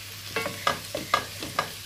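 Onions fry in a pan for Ethiopian tripa while a spoon stirs them, giving four or five regular scraping strokes over a soft, steady sizzle with no talking.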